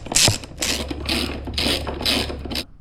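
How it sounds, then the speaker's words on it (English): Ratchet tightening the bolts of a DRC tail tidy on a Honda CRF 300L: four quick bursts of clicking, close and loud, with no talking. "we're going to snug up these bolts"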